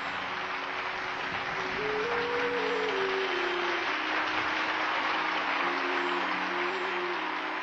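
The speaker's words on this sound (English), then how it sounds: "A deafening applause of 2 minutes followed." Sustained, thunderous clapping from a large audience greets Swami Vivekananda's speech in America. It is an even, unbroken wash of applause with a faint wavering tone beneath it.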